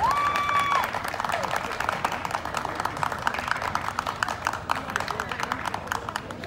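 A crowd at a ranch tournament in Plaza Dos Hermanos, Kilgore, claps loudly for Rancho Los Cascabeles, with dense, rapid clapping sustained for several seconds after a brief shout at the start.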